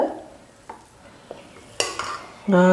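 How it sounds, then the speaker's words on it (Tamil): Cooked basmati rice is gently folded in a cooker, with a few soft scrapes and taps of a ladle against the metal pot and a brief louder metallic scrape toward the end. "சாதம் பாஸ்மதி அரிசின்றதுனால மெதுவாக கலந்து கொடுங்க."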